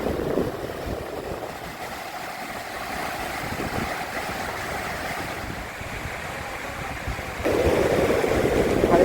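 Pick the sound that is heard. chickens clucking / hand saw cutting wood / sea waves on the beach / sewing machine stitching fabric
sea waves on the beach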